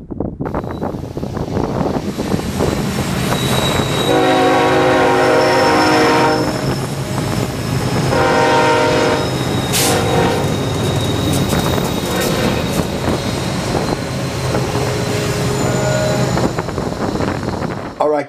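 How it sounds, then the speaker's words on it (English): A train rolls past outdoors with its horn sounding in long tonal blasts, heavy wind buffeting the microphone throughout and the rumble of the cars continuing steadily. "a train comes by"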